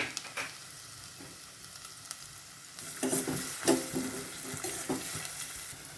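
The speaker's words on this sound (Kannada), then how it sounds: "ಒಂದು ಸ್ಪೂನಷ್ಟು ಚಿಕ್ಕ ಸ್ಪೂನಲ್ಲಿ ಈರುಳ್ಳಿ ಹಾಕ್ಕೋತೀನಿ ಸ್ವಲ್ಪ ಫ್ರೈ ಮಾಡಿಕೊಡೋಣ ಅದನ್ನು" Chopped onion fries in a pan for an egg and paneer gravy, a soft sizzle that swells as it is stirred, with clinks and scrapes of a spoon against the pan.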